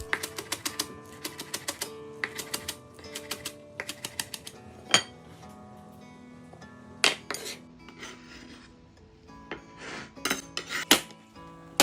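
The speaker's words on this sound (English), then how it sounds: "I finely chop the spring onions to use as a fresh garnish" Knife finely chopping spring onions on a cutting board, a run of quick, crisp taps in fast bursts with short pauses, close and fairly clear, alongside occasional sharper clinks of utensils.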